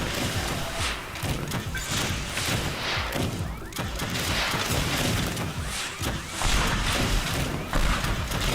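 Rockets fired and blowing up in the destruction game Teardown: a dense, continuous run of crashing impacts and thuds, with several sharp bursts close together and heavier booms near the end.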